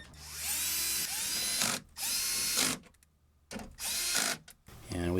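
A power tool, likely a drill, tightens bolts on a 2000-2006 Toyota Tundra door window regulator in several loud whirring bursts separated by short pauses. A final stuttering ratchet-like burst comes near the end. No one talks.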